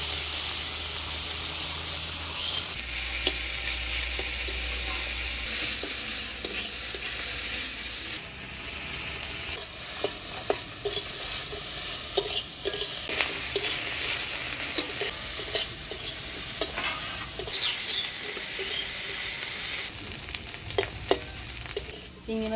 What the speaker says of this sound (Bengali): চিংড়ি মাছের মাথাগুলো বেশ মচমচা করে ভেজে নিলাম।